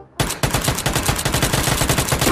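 Rapid automatic gunfire in PUBG, a loud, steady stream of close shots beginning abruptly after a brief quiet moment and continuing without pause.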